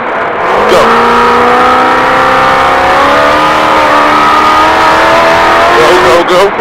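An off-road race vehicle launches at a SNORE qualifying start at Primm, heard from inside the cockpit: a loud, close engine roars steadily, its pitch climbing as it accelerates and shifts, filling the whole stretch.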